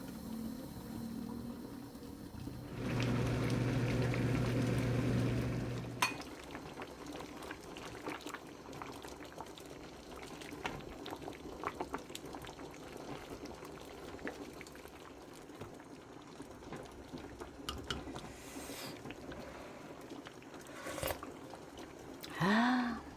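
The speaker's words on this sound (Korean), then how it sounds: "뚜껑 덮고 푹 끓일게요." Beef brisket seaweed soup bubbles in a covered pot, a soft steady simmer with small pops and gurgles, briefly broken early on by a louder humming burst, plus a few clinks toward the end.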